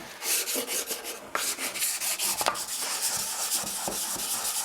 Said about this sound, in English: I round it over the edges, a little bit of final sanding